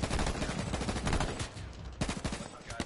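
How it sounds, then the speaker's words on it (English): Rapid gunfire in the online shooter game H1Z1, heard as dense, loud bursts of automatic shots with a short lull and then more firing, and voices talking underneath. "Taking fire. We're taking fire from behind."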